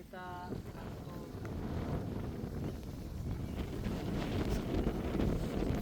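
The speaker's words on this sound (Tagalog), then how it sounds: "sarap na sarap ng hangin" Steady mountain wind buffets the microphone in a dull, rising roar that carries on throughout, with a brief faint squeal at the start.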